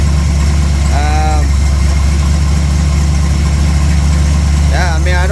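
A V8 engine idles steadily and loudly from start to finish, a constant low rumble with a few faint high chirps above it and no talking.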